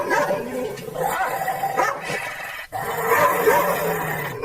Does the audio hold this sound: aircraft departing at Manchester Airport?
no